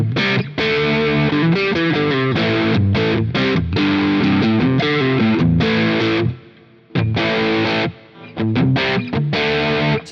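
A PRS SE electric guitar with gain plays a loud distorted riff using its single-coil pickup sounds. Choppy chords are broken by a brief gap, and there is no talking.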